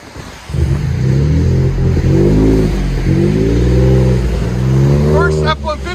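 Ford F-150 PowerBoost hybrid pickup with a Black Widow exhaust, the engine droning at idle and then revving in loud rising pulls up close, with voices speaking over it.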